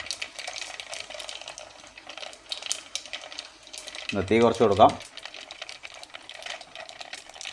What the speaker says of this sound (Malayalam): അപ്പം കടുക് പൊട്ടി വരുന്നുണ്ട്.